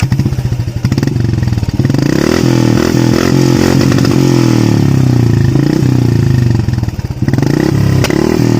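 A Royal Enfield Classic 350 fitted with an aftermarket exhaust thumps loudly at close range, a fast, even, throbbing idle with brief revs that swell and ease back, and no talking over it.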